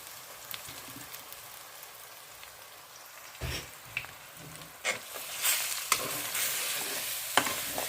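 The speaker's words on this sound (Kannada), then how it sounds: "ರುಬ್ಬಿಟ್ಟ ಕಡಲೆಬೇಳೆ ಹಿಟ್ಟನ್ನು ಇದಕ್ಕೆ ಸೇರಿಸಿ ಅದನ್ನು ಚೆನ್ನಾಗಿ ಮಿಕ್ಸ್ ಮಾಡಿಕೊಳ್ಬೇಕು ಅದನ್ನು ಸ್ವಲ್ಪ ಹುರಿದುಕೊಳ್ಬೇಕು" Ground chickpea lentil batter is stirred and fried in a pan, a soft background sizzle punctuated by irregular scraping and clattering strokes of a spoon that grow busier and louder toward the end; no talking.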